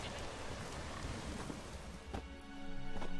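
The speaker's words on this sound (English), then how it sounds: "There's no point standing here in the rain." Steady rain hisses in The Witcher 3: Wild Hunt, an even wash of falling water near the listener with a couple of brief knocks toward the end, and no voices.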